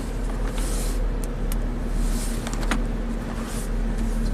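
A GM V6 engine running rich and flooding on bank 2, idling with a steady low drone and a faint rhythmic roughness as it begins to shudder, close up with no talking.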